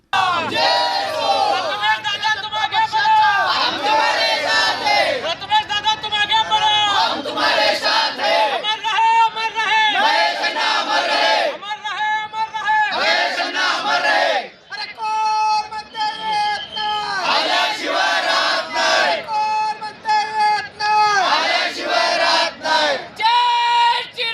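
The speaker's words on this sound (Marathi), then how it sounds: "विजयानंतर भाजपच्या कार्यकर्त्यांनी जल्लोष केला" Crowd of BJP party workers chanting and cheering loudly at a ward election victory celebration, with gulal being thrown, a dense continuous roar of many voices with rhythmic shouted bursts throughout.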